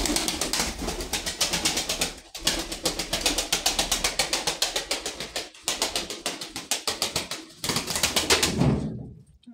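Pigeons coo and flutter close by, with rapid rhythmic wingbeat pulses repeating in bursts, briefly stopping, then resuming.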